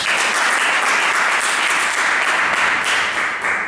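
A church congregation applauds loudly and steadily throughout, a dense wash of many hands clapping at once with no pause.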